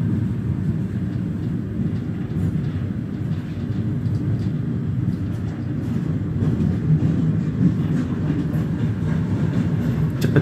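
A commuter train runs over new double track between Jatinegara and Manggarai, heard from on board as a steady loud rumble with rail clatter throughout and no talking.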